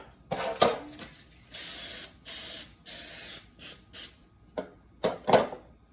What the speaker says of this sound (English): Now I'm gonna spray my pan.